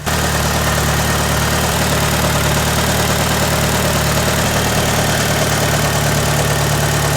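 Mitsubishi Galant 4G64 engine idling steadily after an alternator replacement, a continuous close, loud low hum with even rumble throughout and no talk.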